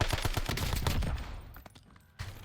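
Rapid bursts of automatic fire from the MXR rifle in a video game, a fast string of sharp shots loud for the first second and a half, then sparse echoing tails and one late thump.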